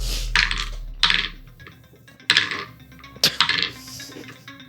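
Ducky dice clatter across a table in four sharp, clinking bursts, each rattle settling quickly before the next roll, close and fairly loud with no talking.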